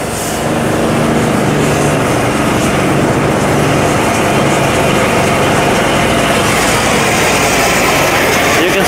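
A 70 HP trailer-mounted cold-water sewer jetter engine, pushing 18 gallons a minute at 4,000 PSI through a 12-inch line, roars steadily at high throttle, loud and close throughout.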